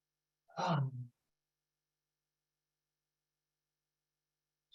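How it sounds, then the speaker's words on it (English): A single short, breathy inhale during a slow twisting stretch, close and soft, followed by near silence. "Maybe I want to do a big inhale."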